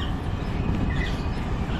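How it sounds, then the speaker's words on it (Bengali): A Dhaka metro train passes at a distance, producing a brief, steady broadband rumble and rush of noise that holds even throughout. "তো ওই যে মেট্রো চলে যাচ্ছে"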